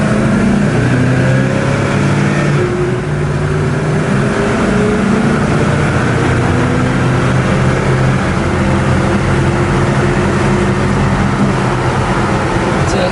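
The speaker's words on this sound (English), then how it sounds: "It's a nice running car." A 1972 Chevrolet Nova is driving on a rural road at around highway speed. Its engine drones steadily and loudly, mixed with road and wind noise that stay close and continuous throughout.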